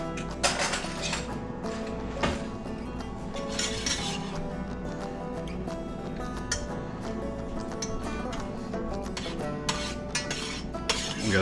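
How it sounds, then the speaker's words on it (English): A spoon clinks and scrapes against a pot while a molasses glaze for smoked pork shoulder is stirred and tasted, with steady close metallic taps and clatter running through. "Let's grab a spoon so we can get in and taste it."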